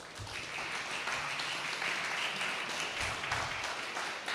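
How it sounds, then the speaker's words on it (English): An audience at the CEE Digital Summit 2025 in Warsaw applauds an award presentation with steady, dense clapping that fills the room evenly for several seconds. "Big applause."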